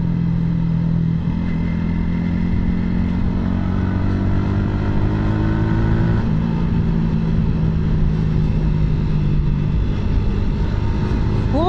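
A Yamaha R15 V2 naked motorcycle with an old engine runs at top speed, its loud sustained engine drone holding high revs with gradual pitch shifts and a gear change, wind buffeting throughout.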